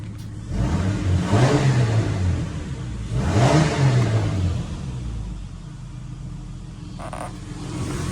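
A Ford AU Falcon that sat unused for five years fires up straight away after a throttle body replacement, its engine revving twice in rising and falling surges before settling into a steady idle, recorded close by.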